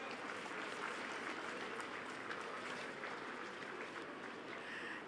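Steady, even applause from a graduation convocation audience, continuous and moderately distant throughout, with no break.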